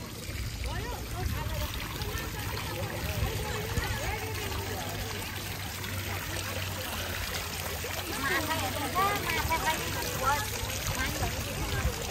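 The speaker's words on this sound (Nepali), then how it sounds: "पानी यहाँबाट निस्केछ।" Water trickles and splashes from a spring at a Jalsiddha Mahadev shrine, a continuous bubbling flow close by with people's voices faintly underneath.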